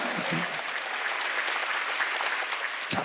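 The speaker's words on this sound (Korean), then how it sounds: "박수" A church congregation at a Wednesday worship service claps together in a steady, dense burst that runs the whole stretch, fairly close and evenly loud.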